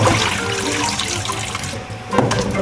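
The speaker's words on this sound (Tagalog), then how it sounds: "Make sure lang na malinis kasi baka may mga insekto pa at syempre mga alikabok. Hugasan natin." Winged beans being washed under a running kitchen tap, with steady splashing and water hitting the sink throughout, a brief dip then a louder gush near the end, close and no talk.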